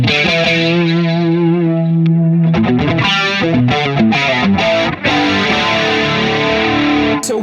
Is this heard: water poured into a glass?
no